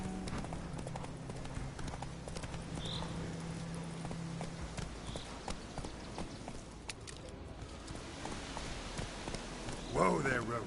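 Hooves of the horse Roach clip-clopping in a video game, a steady rhythmic trot at moderate volume over a rainy ambient background, with a voice talking near the end.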